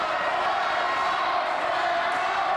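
A wrestling arena crowd at a Pro Championship Wrestling match roars steadily for hometown hero Mr. Primetime (MPT) against Apollo Kahn, a dense, continuous wash of cheering with no breaks.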